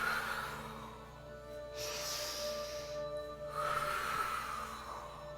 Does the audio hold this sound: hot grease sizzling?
no